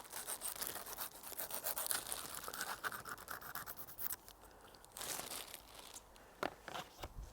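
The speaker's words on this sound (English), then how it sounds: "And brush away any dust." A brush sweeps dust off a small bike part before painting, giving close, soft bristly scrubbing strokes in quick repeated bursts, with a brief pause near the middle and no talk.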